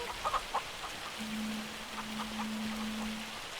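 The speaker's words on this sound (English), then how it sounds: "Let me get out of the rain because I'm getting soaked here." Steady rain falls in Farming Simulator 25, a soft continuous hiss of drops, with a few faint clucks early on and a low hum running underneath.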